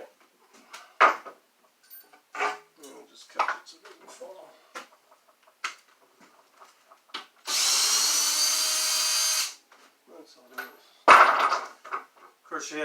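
A power drill runs in one steady burst of about two seconds while loosening lag bolts driven into a ceiling during a drywall job, surrounded by scattered knocks and handling sounds.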